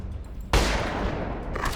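A sudden loud burst of gunfire in the video game Ghost Recon Advanced Warfighter 2 erupts after a quiet moment, then sustains as a dense, rumbling barrage of shots.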